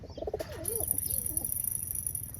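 Pigeons coo in a loft in rainy weather, giving a few soft, rolling coos close by over a faint background hiss, with a steady high whine running behind them.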